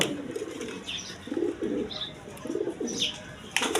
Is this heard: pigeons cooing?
yes